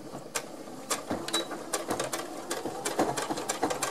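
A sewing machine stitches a fabric sock with a steady run of rapid mechanical clicks and taps, close and fairly loud, with short pauses in the rhythm and no talking.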